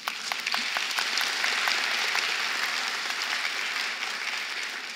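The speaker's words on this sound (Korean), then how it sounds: "박수 나올 줄 알았습니다." A theater audience at a talk bursts into applause, a dense, even rain-like patter of many hands clapping at once that holds steady and fades slightly toward the end.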